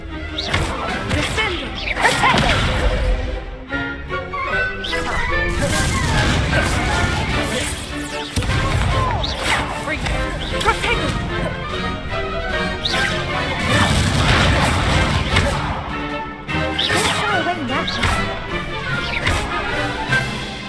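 Fire-blast spells cast in Hogwarts Legacy combat, repeated loud whooshing bursts and crashing impacts amid a continuous battle clamor and music, with voices shouting occasionally.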